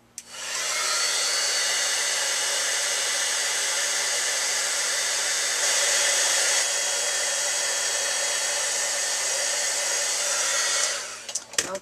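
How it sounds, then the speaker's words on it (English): Crafting heat tool heat-setting embossing powder on a card, a steady close blowing roar like a hair dryer running continuously for about ten seconds, with no talking. "I'm going to go ahead and heat set this with the heat tool"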